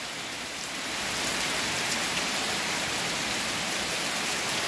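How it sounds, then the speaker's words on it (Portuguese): Steady rain pouring down in Aquiraz, Ceará, a dense even hiss that swells slightly after the first second and then holds constant, with no voices. "E a chuva começou"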